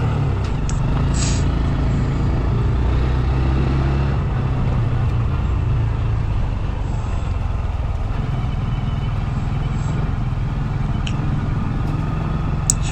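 Honda CT125 motorcycle engine of 8.7 horsepower climbing a hill in second gear on a warm winter day, with a steady low drone close by, joined by constant wind rush throughout.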